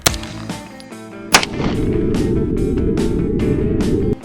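.22 LR CCI Stinger rounds, 32 grain, fired from a rifle: a sharp close crack with a brief echo, then a second louder report that trails into a long rumbling tail.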